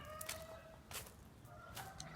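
Village chickens clucking and squawking in short bursts, faint and somewhat distant, with a low steady background.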